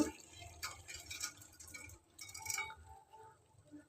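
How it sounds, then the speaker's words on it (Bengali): Uncooked rice tipped into a pot during home cooking, giving soft watery pattering and small splashes in short bursts, fairly faint. "আমি এই চালটা দিয়ে দিচ্ছি"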